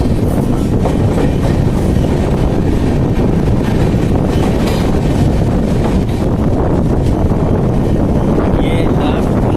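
Ganga Satluj Express passenger train running on a single-line section between Lucknow and Varanasi, a steady loud rumble of wheels on rails with wind noise throughout and faint clatter, no talk.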